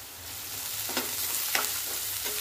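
Onion with red chillies frying in a pan, a constant close sizzle with a few sharper crackling bursts as they hit the oil, no speech.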